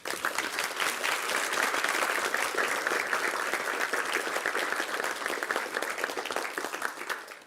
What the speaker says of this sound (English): a round of applause from us